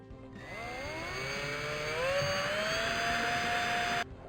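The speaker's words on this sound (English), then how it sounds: "So I'm just going to use the drill and attach my bracket using the screws." An electric drill drives screws into a wall-mount bracket, a steady whirring motor tone that ramps up slightly in pitch and runs continuously for about four seconds, close and fairly loud, then cuts off abruptly.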